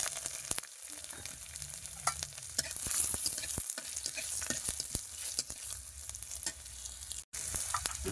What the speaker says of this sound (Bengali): এই তেলের মধ্যে একটু কালো জিরে, শুকনো লঙ্কা আর রসুন ফোড়ন দিয়ে দেবো।